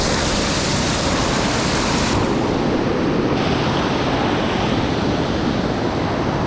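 A river waterfall roars as dense, loud, continuous rushing water, a steady broadband wash with no pauses and no voices.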